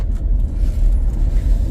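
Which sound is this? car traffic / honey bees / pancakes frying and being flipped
car traffic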